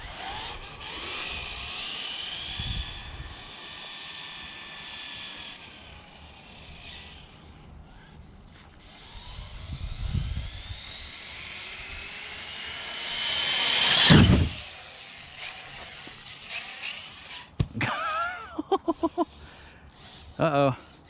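An ARRMA Typhon 6s RC car runs at full speed down a street and parking lot, its electric motor whine rising and falling as it passes, with a loud close burst midway and sharp clattering hits near the end.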